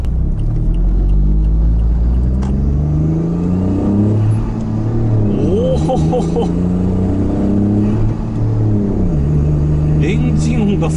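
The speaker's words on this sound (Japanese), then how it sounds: "エンジン音がすごい。" A tuned Honda S660 sports car's small engine accelerates hard from inside the cabin, a loud, continuous rising drone with gear changes that drop and climb again, while a man laughs and exclaims over it.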